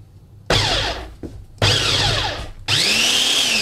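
A food processor pulses a pie crust mixture in three loud, close bursts of whirring motor with short pauses between them.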